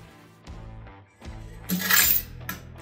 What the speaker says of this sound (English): So it dropped those coins almost instantly out of the machine.